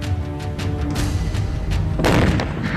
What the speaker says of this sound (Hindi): एक धमाका होता है और ये इमारत जमीन दोज हो जाती है।